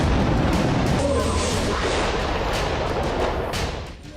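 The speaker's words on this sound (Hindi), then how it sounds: "इस इलाके में इजराइल ने पहली बार बमबारी की है।" An Israeli airstrike bombardment in the Akkar area of northern Lebanon produces a sustained loud, rumbling roar of blasts, dense and continuous before easing slightly at the end.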